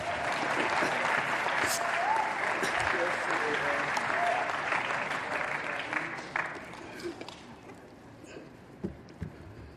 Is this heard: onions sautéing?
no